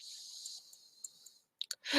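A few sharp computer mouse clicks in quick succession near the end, following a quiet stretch of faint hiss, as Pen Tool paths are drawn and closed.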